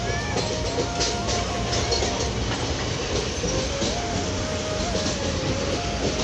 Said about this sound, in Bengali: আমাদের এখন ট্রেন ঢুকছে ফারাক্কার বাদে